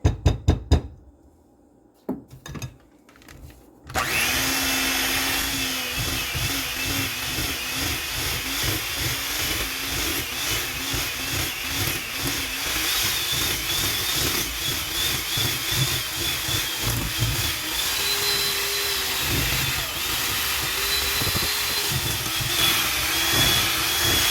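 Electric mixer beating butter, brown sugar and white sugar for a caramel pound cake, a steady loud motor whir running continuously after a brief quiet start, with faint knocks from the beaters against the bowl.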